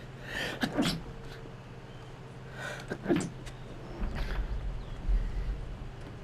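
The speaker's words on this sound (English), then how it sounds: "Had to sneeze really quick." A couple of sharp, quick sneezes burst out close by, followed by a faint snort or sniff, over a low background hum.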